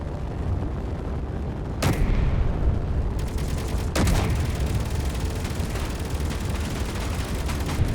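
Automated video game turrets firing, heard as a loud, continuous barrage of rapid gunfire with two sharp heavy blasts standing out, and no talking.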